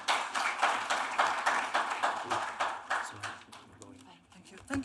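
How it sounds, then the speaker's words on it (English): Applause from a conference audience after presenters finish, rhythmic clapping swells and pulses for a few seconds, then thins out into scattered claps and faint room noise. "Give them a round of applause, please."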